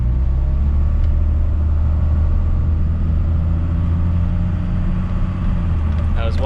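Inside a first-generation Cummins diesel truck with an automatic transmission, a loud, steady engine rumble drones on as the transmission moves from first to second gear, with no distinct break in the sound.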